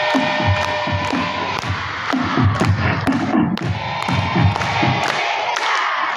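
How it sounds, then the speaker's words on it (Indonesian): High school students at MAN 1 OKU Timur clap and shout together during a motivational session, a loud, close crowd roar with rhythmic thumping claps running throughout. "Tepuk tangan sambil teriak."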